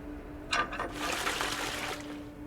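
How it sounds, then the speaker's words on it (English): Water runs from a faucet in a horror adventure video game, a steady broadband rush that swells in after a brief splash and flows continuously at moderate level, with a faint steady hum underneath. "And then we can use the faucet handle."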